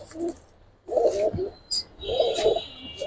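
Giribaz pigeon cooing close by, several soft throaty coos in quick succession with brief pauses, with faint higher chirps mixed in.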